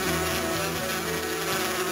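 Bees swarm around a honey tree in an Amiga CD adventure game, a continuous, close, droning buzz with a steady hum and layered tones throughout.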